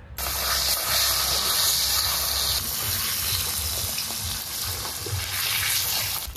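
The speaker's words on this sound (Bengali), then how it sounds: "সর্ষের তেলে মাছগুলো ভাজবো, কড়াইতে তেল দিচ্ছি, তেলটা একটু টনটনে গরম করে নিতে হবে।" Small bata fish fry in hot mustard oil in a wok. A loud, steady hiss and spatter of oil continues close by without a break for the whole clip.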